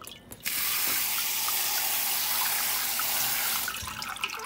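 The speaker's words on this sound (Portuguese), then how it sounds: "jogar uma água gelada por cima" Ice-cold water poured over cooked, drained chrysanthemum petals for a kiku salad, a steady loud rushing splash that runs for about three seconds after a brief start and then tapers off, with no talking.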